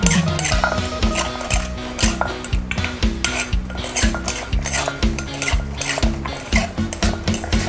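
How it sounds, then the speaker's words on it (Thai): Rhythmic pounding in a mortar as rice noodles are mixed into a spicy squid salad dressing, a steady repeated thudding with clinks and wet mashing, close up and without talk. "ต่อไปก็ตำให้เข้ากันค่ะ"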